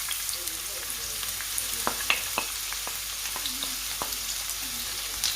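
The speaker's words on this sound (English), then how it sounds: "we've got a little bit of oil in the frying pan. We're going to add our onion to it." Onion sizzling in a little oil in a frying pan, a steady crackling hiss with scattered pops and light stirring clicks, close and continuous with no talk.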